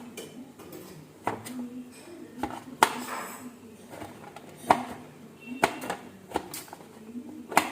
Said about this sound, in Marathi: आता ते चाकूच्या सहाय्याने बारीक करून घेणार आहे